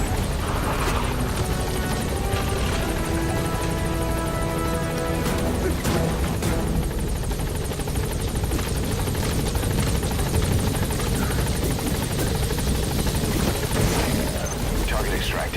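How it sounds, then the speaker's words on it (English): Extraction helicopter in Metal Gear Solid V, its rotor chop thudding loud and steady throughout with engine whine, while game voices talk over it. "Call the chopper from your iDroid, boss."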